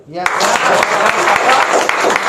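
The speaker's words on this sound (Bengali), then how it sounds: "আপনারা আপনাদের জন্য একটা তালি দেন" An audience claps together at a business seminar, a dense, steady burst of applause that starts abruptly and holds loud and even for about two seconds.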